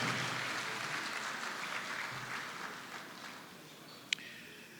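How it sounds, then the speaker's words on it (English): A faint, distant round of applause from a small audience, thinning out over several seconds, with a single sharp click near the end. "Round of applause for Airtel, please."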